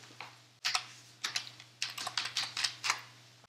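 Someone types a game name on a computer keyboard in quick, uneven bursts of crisp key clicks, fairly close and alone, with a faint constant low hum underneath.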